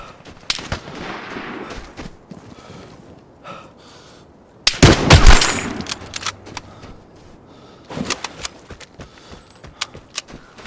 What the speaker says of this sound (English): there are still some more shots going off in this direction.